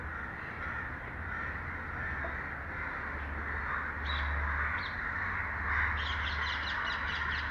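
Several crows caw repeatedly in the distance outdoors, harsh calls clustering toward the end over a steady low background hum.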